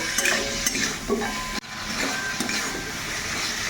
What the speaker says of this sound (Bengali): এবারে আলু আর এটাকে বেশ ভালো করে অনেকক্ষণ সময় ধরে এটাকে কিন্তু ভালো করে কষিয়ে নেব